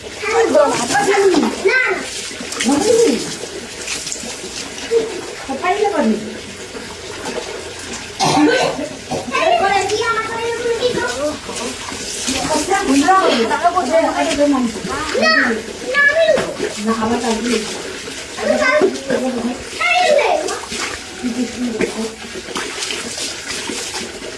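Water runs steadily into a bathtub being filled for a bath, a continuous splashing rush with voices talking over it throughout.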